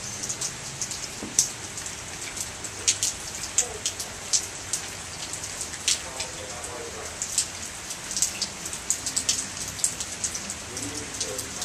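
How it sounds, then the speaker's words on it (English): Heavy, steady rain falling outdoors on a very rainy night, a dense hiss of drops striking surfaces with scattered louder splats throughout, continuous and fairly close with no voices. "Just never-ending, non-stop rain today, all day."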